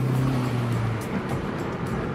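A pre-runner truck spins a tire, giving a steady, close broadband roar with a low engine drone that is strongest at the start. No talking.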